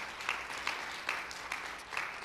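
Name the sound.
audience applause in church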